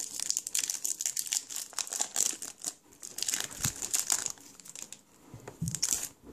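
A foil card packet of Ekstraklasa 2012-13 football cards is torn open, giving sustained close crinkling and crackling with short tearing bursts throughout, loud and continuous.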